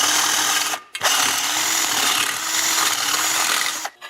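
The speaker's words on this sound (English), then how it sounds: "the hole at the back here is a bit tight, so I'm just going to run my drill bit through it" A 3/8 drill bit grinds through the bolt hole of a small engine muffler in a loud, steady whirr that halts briefly twice.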